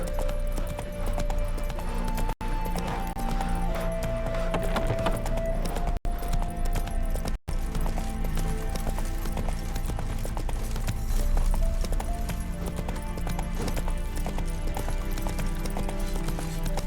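Clip-clop of a horse galloping in The Witcher 3 video game, steady rhythmic hoofbeats running throughout over a dense music and ambient game soundtrack, with a couple of very brief dropouts.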